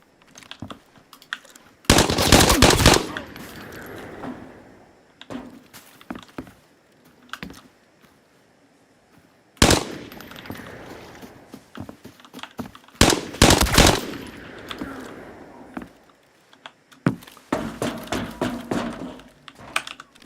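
Video game gunfire heard as several loud, close bursts of rapid shots separated by quieter gaps with softer clicks and thumps, the last burst a long rattling stream.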